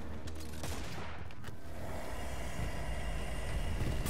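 Rapid bursts of gunfire in the Destiny 2 Pit of Heresy dungeon, a dense, continuous volley with a heavy low rumble, loud throughout and without talk.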